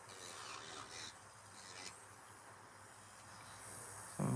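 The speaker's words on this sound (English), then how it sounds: "So, you're not really filing the nail too much." An electric nail file running at its lowest speed blends acrylic nails, giving a steady close rasping hiss with a louder scrape near the end.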